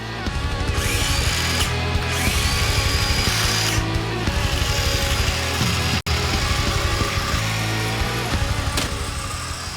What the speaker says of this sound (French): utilisait des outils électriques